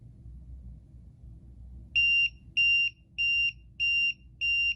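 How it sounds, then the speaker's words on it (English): A Ticktime Pomodoro timer's alarm going off at the end of a countdown: five short, evenly spaced high-pitched beeps, loud and close, after a couple of seconds of quiet background hum. "Once the timer counts down to 0, an alarm goes off and sounds like this."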